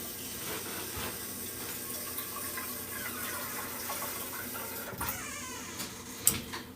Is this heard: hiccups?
no